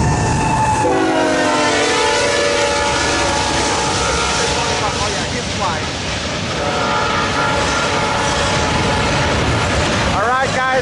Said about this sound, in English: here's this eastbound manifest pulling the Barstow right now